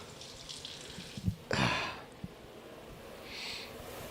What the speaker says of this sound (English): it's just the water from the faucet